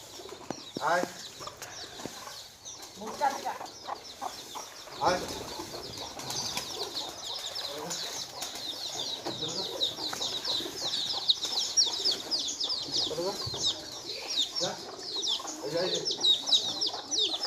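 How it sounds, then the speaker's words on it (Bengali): Pigeons gathering to eat rice mixed with curry, with soft coos, clucks and flapping wings under dense birdsong and chirping, while a person calls to them now and then. "তরকারি মাখা ভাত দিলাম কবুতরগুলাকে।"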